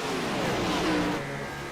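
Race car engines at full throttle in the VRX sim racing game at Chicagoland, a steady, loud droning roar with rising and falling pitch as the cars hold wide open through the corners.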